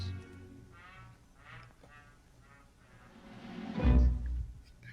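Duck quacking in a movie scene, a few nasal quacks over a faint background before a louder, low rumbling burst near the end.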